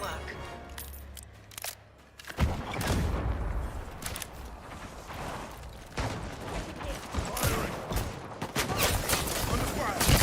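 Gunfire in the video game Highguard forms a dense, continuous din of shots and mechanical clatter that starts abruptly and keeps up throughout, with a voice speaking over it.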